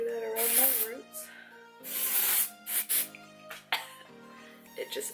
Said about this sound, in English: So I just spray that around my roots.